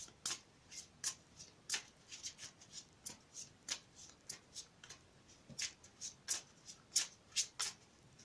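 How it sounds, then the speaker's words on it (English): Brisk riffle-shuffling of a tarot card deck, a steady run of crisp, fluttering bursts repeating close by with no talking. "I've already shuffled the deck, but I'll shuffle it again for you."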